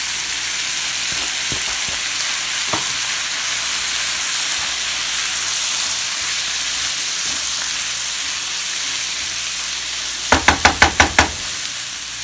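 Garlic and basil stems sizzling in a hot pan for vegan fried rice, a steady loud frying hiss with a few soft knocks, then a quick run of sharp utensil taps near the end.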